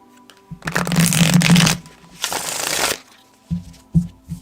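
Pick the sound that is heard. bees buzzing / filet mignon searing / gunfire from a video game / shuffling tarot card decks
shuffling tarot card decks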